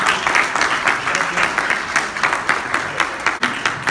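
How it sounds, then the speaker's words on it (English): A room full of people at a weekly open business meeting claps for a presenter, loud and close, with uneven bursts of hand claps and some crowd murmur mixed in. "let's give a big round of applause to Julio for giving us a presentation tonight"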